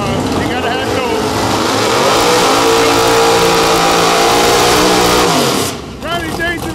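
A Ford Mustang drag racing at Palm Beach International Raceway, its engine roaring loud and sustained at high revs, climbing in pitch, then cutting off sharply near the end, with a voice talking over it.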